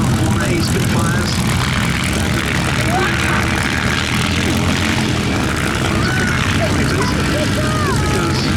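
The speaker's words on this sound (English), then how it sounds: "16 Spitfires and 4 Hurricanes, all in the process of starting up and taxiing out" At the Duxford Battle of Britain airshow, the propeller engines of Spitfires and Hurricanes start up and taxi. A dense, loud, continuous engine roar fills the scene, with voices faintly mixed in.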